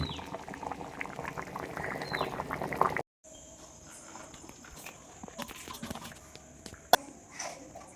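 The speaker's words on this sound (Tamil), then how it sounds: "நல்லா கொதி வந்த பிறகு ரெண்டும் வெந்துருச்சு குழம்பும் கொதிச்சிருச்சு" Crab curry bubbling in a pot: a steady simmering gurgle and popping, close and moderately loud, broken by a brief cut partway through, then continuing with scattered louder pops and no talking.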